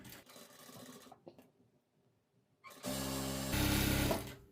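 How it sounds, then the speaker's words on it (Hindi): A sewing machine stitches over the lace seam on a blouse sleeve in short bursts: a brief run, a pause, then a steady close whirring run that grows louder. "जिस सिलाई से हमने लेस को अटैच किया है तो उसी सिलाई के ऊपर हमें सिलाई एक और लगानी है"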